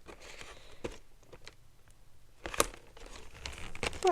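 Scissors cutting a Monster High Cleo De'Nile doll out of its plastic and cardboard packaging, giving quiet crinkling and tearing with a few sharper snips and rustles close by.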